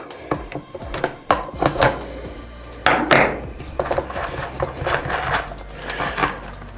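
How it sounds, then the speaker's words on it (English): Close, irregular metallic clicks and ratcheting taps as a 14mm spanner works the nut on a motorcycle indicator, a 2024 CFMOTO 450MT, in quick uneven bursts with short pauses between. "We can then take our 14mm spanner to undo the indicators"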